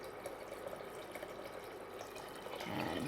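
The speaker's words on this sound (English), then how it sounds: "I'm just going to go ahead and add some water" Water runs into a pressure cooker while making dal makhani, a faint steady trickle with small splashy drips that swells into a fuller pouring sound near the end.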